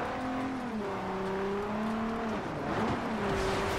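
A car drifts in Forza Horizon 2, its engine droning steadily with shifting pitch as it slides, then a brief louder surge of tire and engine noise, continuous and close, with no talking.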